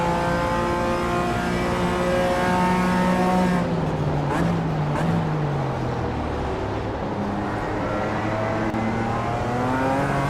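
A BMW race car from the iRacing sim laps a circuit, its engine note loud and continuous, dropping on downshifts into a slower section and then climbing again as it accelerates, with no speech.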